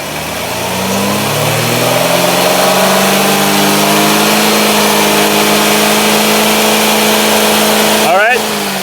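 The engine of a Cadillac SRX4 with hesitation and power loss revs up and sustains a rising, droning tone, loud and close, with a quick sweeping change near the end and voices speaking over it.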